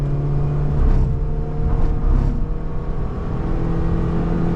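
A modified Honda City on upgraded alloys and tyres pulls hard in third gear, its engine note rising loud and close with a strong, steady whir as it accelerates.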